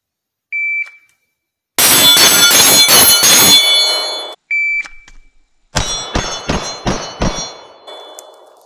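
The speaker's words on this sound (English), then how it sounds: "Glock 19 with red dot at 5 yards, 5 shots." Two quick strings of sharp metallic clangs from pistol rounds, likely a Glock 19 with a red dot sight, striking steel targets at 5 yards; ringing impacts come in dense bursts with short single pings between, close and loud, with no talk.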